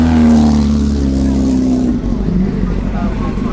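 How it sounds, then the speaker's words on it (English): Two Cooper Formula 2 race cars pass at Silverstone Festival 2023, their engines loud and close. The pitch sags as they go by, then drops into a fading, rumbling note. "What you just heard there were 2 Cooper, probably Formula"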